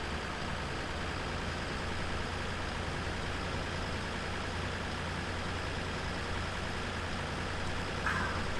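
Tractor engine in the Farming Simulator 2013 video game, a steady low drone as the slow vehicle drives along a road, continuous and even throughout with no voices.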